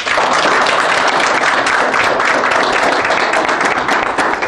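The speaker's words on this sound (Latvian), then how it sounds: "Aplausim!" An audience applauds at the final of a school quiz contest for grades 7 to 9, a loud dense burst of clapping that holds steady throughout.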